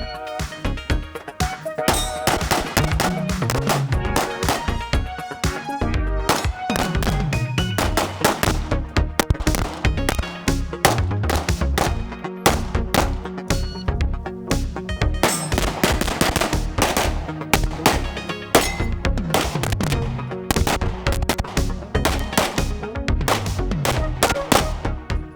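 Rapid bursts of pistol fire ring out on a practical shooting competition stage at an extreme open match, sharp shots and metallic clangs of steel targets repeating fast and loud throughout, with faint talk in the background.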